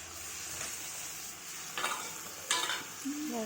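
Potatoes fry in a pan with a soft, continuous sizzle while a utensil stirs them, giving a few distinct scraping strokes partway through at moderate to low volume.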